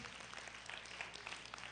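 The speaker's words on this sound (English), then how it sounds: "Give the Lord a hand clap of praise." Congregation clapping hands in praise at a Christian church service, a steady wash of many hands heard from a distance and fairly faint, with no voices standing out.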